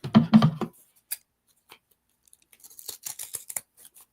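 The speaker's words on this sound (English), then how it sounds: "we're going to trim off all this excess" Scissors snip through excess fabric around an embroidery hoop, a cluster of crisp cutting crunches at the start, then scattered lighter snips and rustles, close and fairly quiet.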